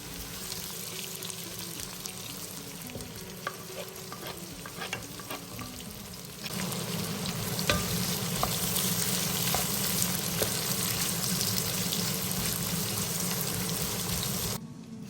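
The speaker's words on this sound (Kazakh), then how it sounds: "қатты отта қуырып аламыз." Onion and garlic fry in oil over high heat, a continuous close sizzle with scattered crackles and stirring scrapes that grows louder and denser about halfway through, with no talk.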